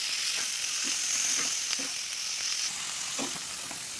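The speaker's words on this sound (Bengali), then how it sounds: "তো সব কিছু কিন্তু আমি হালকা হালকা করে একটু ভেজে নেবো।" Chicken frying lightly in a pan gives a steady broad sizzle with occasional soft stirring scrapes, close and continuous with no voices.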